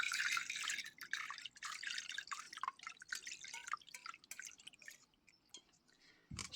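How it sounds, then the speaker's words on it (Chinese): Dried mulberries are rinsed under running tap water, giving soft splashing and dripping with irregular patters that thin out toward the end, close by and quiet. "然后再用水冲一冲。"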